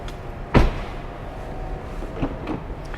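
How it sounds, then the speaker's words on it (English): A 2021 Mercedes S-Class rear door is opened with a single sharp latch clunk, followed by a few softer close-up clicks and thumps around the door. "my camera guy's gonna open the door"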